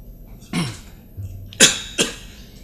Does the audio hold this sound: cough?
yes